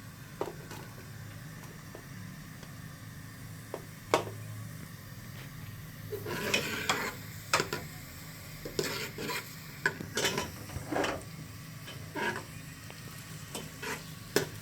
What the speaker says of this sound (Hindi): तो गाइस इसमें जाएगी प्याज पहले।